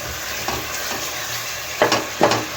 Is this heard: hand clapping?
no